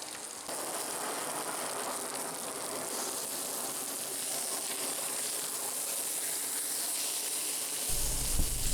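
Pork chops sizzling in a hot cast iron pan as they are flipped, a steady bright crackling hiss that stays constant and close, ending in a low thump as a chop is turned.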